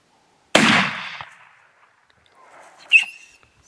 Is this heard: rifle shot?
yes